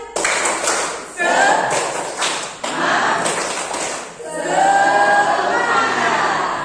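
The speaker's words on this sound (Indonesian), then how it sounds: "Tepuk semangat." A classroom of students performs tepuk semangat, a rhythmic spirit clap done while standing, with bursts of patterned clapping and voices chanting along, loud and close in an indoor room.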